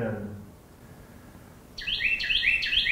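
Carolina wren trill calls ring out in a backyard setting, a bright, rapid repeated phrase starting partway through and continuing loud and close, after a brief trailing voice at the start.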